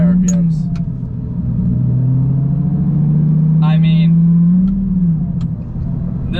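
A Lamborghini Gallardo engine revs hard at high RPM, its loud, close drone rising and falling in pitch over several seconds, with a muffled voice talking over it.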